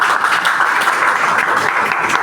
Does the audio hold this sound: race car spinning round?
no